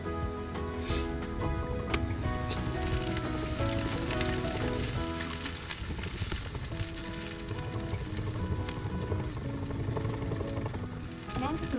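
Egg fried rice sizzles and crackles steadily in a hot pot, a dense continuous frying hiss with stirring scrapes and a faint voice now and then.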